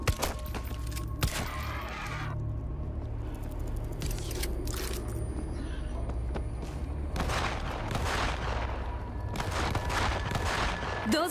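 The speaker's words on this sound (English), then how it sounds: "Those shots came from the highway." Gunfire in the World War Z video game, set in Tokyo: scattered sharp shots and short volleys ring out over a steady low rumble, some single cracks and some clustered bursts.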